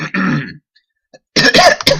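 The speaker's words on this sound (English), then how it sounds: "I apologise for coughing all over the microphone." A gamer coughs and clears his throat close into a microphone, two loud harsh bursts split by a short silent gap.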